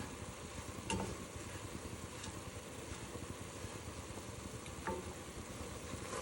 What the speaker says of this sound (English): Okay, our sausage is getting cooked. I'm going to let it brown just a little bit